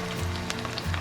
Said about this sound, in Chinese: 朋友们全程就是小火慢煎